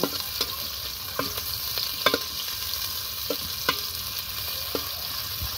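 Onion, cinnamon and cardamom fry in oil for pilau over an outdoor clay stove, a steady close sizzle broken by occasional clinks and scrapes of stirring.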